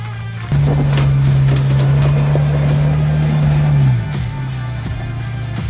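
A 2023 Chevy Colorado Z71 crawls up rocks on a steep incline of loose gravel, its engine a loud, steady drone that holds for several seconds and then drops to a lower, quieter rumble.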